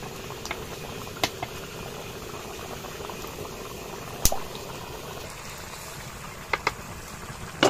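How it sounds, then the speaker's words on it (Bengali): Rice bubbling at a steady simmer in a pot for chicken biryani cooked with country chicken in a village home. The bubbling stays continuous and moderately quiet, with a few sharp clinks and pops. "চাল প্রায় সিদ্ধ হয়ে গেছে মনে হয়।"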